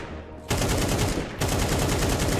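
Dense automatic gunfire from a player moving and shooting in Counter-Strike, a steady loud rattle of rapid shots with a brief break near the middle before firing resumes, close and continuous.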